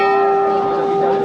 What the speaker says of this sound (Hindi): देखो भाई घंटी भी बजा दी